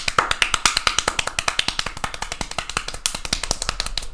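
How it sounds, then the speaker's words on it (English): Very fast hand clapping right into a microphone, a long rapid run of sharp, evenly spaced claps, close and loud, with a slight quiet pocket near the middle. "Can you hear me how fast I'm clapping, Eddie?"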